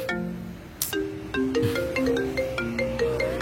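An incoming call ringtone plays a repeating melodic electronic tune at moderate volume, nearby and alone, with faint background noise.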